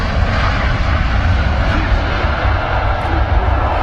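An airliner lands at Brussels Airport, its loud, broad engine roar rumbling steadily and close throughout, with faint voices beneath.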